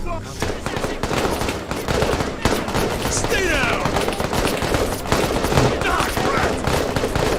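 In Call to Arms Vietnam, an ambush erupts into rapid machine-gun and rifle fire, dense bursts crackling continuously with scattered louder shots, while someone talks over the battle.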